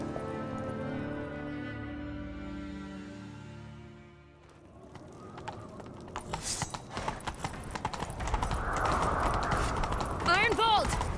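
Horses gallop in a video game chase, rapid hoofbeats rising from about four seconds on under musical score and shouted voices, after a stretch of speech and music.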